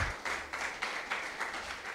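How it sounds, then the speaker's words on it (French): An audience applauds at a French-language conference before a question-and-answer session, clapping with a rhythmic pulse about four beats per second, moderately loud and steady. "Je vous prie de l'applaudir s'il vous plaît."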